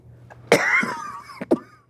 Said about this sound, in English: Now the good stuff is happening and I'm coughing.